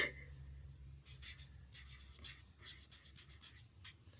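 Art marker tip scratching across cards while names are written, a quiet run of short, close strokes in quick bursts with small pauses, no voices.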